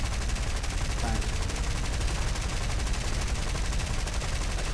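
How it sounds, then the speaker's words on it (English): Machine gun fire from a Blenheim bomber in the War Thunder game, a steady, fast, continuous rattle of shots over engine drone, moderately loud and unbroken throughout. "he's going to shoot at me, so I'm gonna shoot at him"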